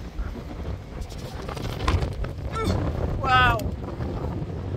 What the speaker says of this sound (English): It's that windy.